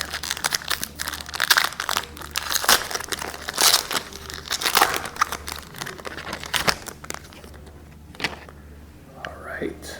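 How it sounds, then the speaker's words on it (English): A premium card pack wrapper is crinkled and torn open, with busy plastic rustling and crunching close to the microphone, easing off near the end while a voice speaks softly over it. "I did promise I was going to open this"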